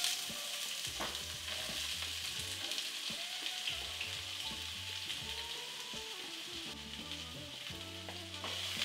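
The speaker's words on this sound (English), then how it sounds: "Saute this until they start getting translucent." Chopped onions sautéing in hot vegetable oil in a shallow pot on medium-high heat, a steady close sizzle and crackle with occasional scraping of a spoon stirring through, no voices.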